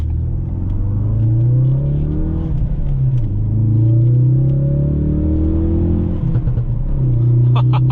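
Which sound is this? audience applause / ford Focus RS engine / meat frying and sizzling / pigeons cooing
ford Focus RS engine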